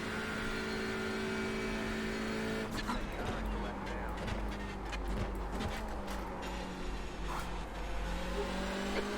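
Race car engines in the iRacing video game, a steady droning engine note with tonal whine and shifting pitch as cars brake and accelerate, continuous and moderately close, with a few sharp clicks over it.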